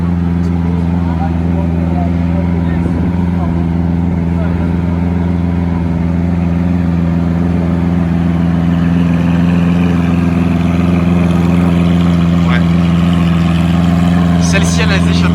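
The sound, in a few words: Lamborghini Aventador LP704 with Capristo exhaust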